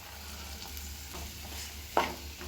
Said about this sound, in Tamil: இது ஒரு நிமிஷம் அளவுக்கு இதுலேயே வதங்கட்டும்.